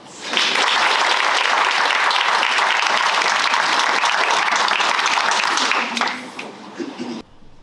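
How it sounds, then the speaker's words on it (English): Audience at a first-year radiography pledge ceremony breaks into loud sustained applause that holds steady for several seconds, then thins out and fades. "I think you deserve a round of applause."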